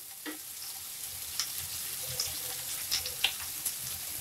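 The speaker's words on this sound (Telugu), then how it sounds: "ఉల్లిపాయలు బ్రౌన్ కలర్లో వచ్చేంత వరకు వేయించుకోవాలి." Onions fry in a pan toward browning, giving a soft, steady sizzle with a few light clinks and stirring taps scattered through, fairly quiet and without speech.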